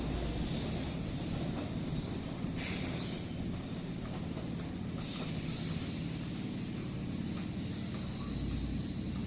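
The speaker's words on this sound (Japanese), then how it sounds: "萩山駅3番ホームから国分寺駅へ向かう西武多摩湖線の電車が発車しました。" A Seibu Tamako Line 9000 series electric commuter train departs Hagiyama Station, rumbling steadily with a constant low roar and faint hiss, with no talking.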